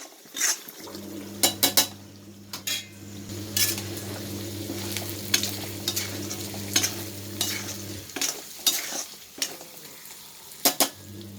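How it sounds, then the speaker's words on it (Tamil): Onions sauté in leftover coconut oil before prawns are roasted, with a close sizzle under repeated metal spoon scrapes and clinks against the pan, plus a low steady hum from the stove. "இந்த எண்ணெய் மிச்சம் இருக்க எண்ணெயை தான் வெங்காயத்தை போட்டு வதக்க போகிறேன்"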